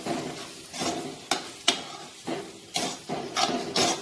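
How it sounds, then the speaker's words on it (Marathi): Roasted semolina being stirred into a hot curry-leaf tempering for upma, with repeated scraping strokes of a spoon against the pan over a soft sizzle, close and fairly loud, no talking. "आता मी रवा घालून घेते भाजून घेतलेला."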